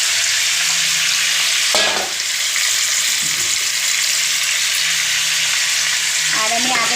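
Meat sizzles and fries in a pan of hot oil, a loud steady crackle throughout, with a few scrapes of stirring.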